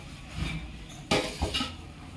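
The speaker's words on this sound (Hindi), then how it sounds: "अभी वो बर्तन धो रही है" Dishes are washed in a home kitchen. Pots and pans clatter in a few sharp metallic clanks, the loudest near the middle, close by and with no talking.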